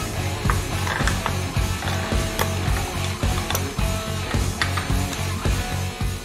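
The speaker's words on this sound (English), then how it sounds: "Yeah, you can unscrew the bolt" A versatile hand tool unscrewing a bolt gives off rapid, steady ratcheting clicks with a gritty mechanical texture, close up and continuous throughout, with no voices.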